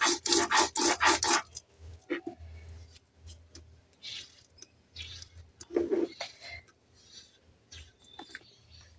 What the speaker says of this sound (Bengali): বাটা হয়ে গেল, আর এবারে আমি তুলে নেব একটা জায়গায়।